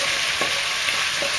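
Steady, loud sizzling of beef frying in a pan for lomo saltado, a continuous crackling hiss with a few soft scraping stirs, no voices.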